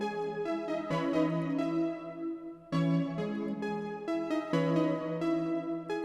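A dark melodic sample in FL Studio passes through the Little Micro Shift chorus plugin, sustained chords and notes shifting in a few phrases with a wide, shimmering tone, close and clear with no talking.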